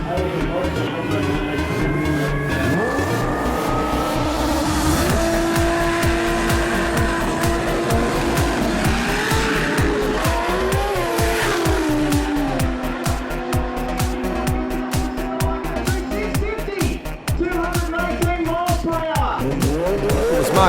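A drag racing car does a smoky burnout at the Winternats during qualifying, its engine roaring loud and close with continuous tire squeal and shifting pitch for about twenty seconds, while a commentator's voice runs underneath.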